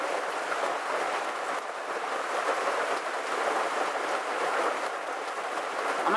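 Steady outdoor rain pours down in a constant, even hiss, moderately loud and unbroken throughout, with no voices over it.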